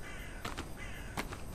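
Within the video game Folcroft Monastery, crows give a couple of short, faint caws from some distance against a steady, noisy ambient background.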